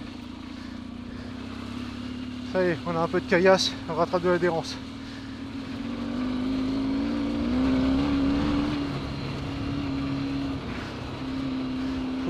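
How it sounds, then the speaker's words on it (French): An off-road motorcycle engine runs at low revs on a muddy, rainy trail, a steady low drone under a rider's brief talk, swelling slightly midway as it rolls onto stony ground. "je roule sur la souplesse du moteur"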